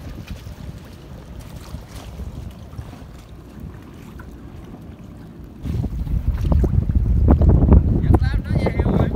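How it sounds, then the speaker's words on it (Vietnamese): Wind and choppy water buffet a boat on a river during fishing from a raft platform, a steady rushing roar with low rumbling gusts that swell louder in the second half; faint voices are occasionally audible beneath. "Gió sóng quá trời luôn."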